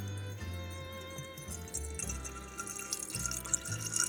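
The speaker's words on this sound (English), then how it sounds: "So now we're just going to pour our garlic tincture into the bottle." Garlic tincture trickles through a funnel into a small bottle, a soft close gurgle with faint drips that rises in pitch as the bottle fills, alone and quiet.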